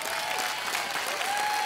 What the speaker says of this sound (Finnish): annetaan isot, isot aplodit myös Masked Singer Suomen tanssijoille